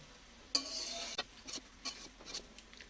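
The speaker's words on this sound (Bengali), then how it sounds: "এরকম একদম তলাতে ছেচকিটা এভাবে দিয়ে দিয়ে নাড়বে" A spatula scraping along the bottom of a large wok while vegetarian fried rice is stirred, several separate scrapes over a faint background sizzle, quiet and close.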